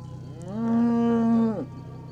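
A cow moos in a valley gorge in central Brittany, calling after its calf: one long, loud, sustained low call with rich harmonics that swells and then drops off, ringing out over a steady background hum.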